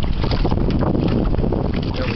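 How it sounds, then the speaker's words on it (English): Strong wind blows across a lake around a bass fishing boat, buffeting the microphone in a loud, continuous rushing roar. "Wind's really blowing now."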